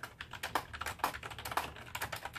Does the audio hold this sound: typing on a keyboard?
yes